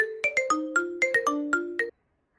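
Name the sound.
phone ringing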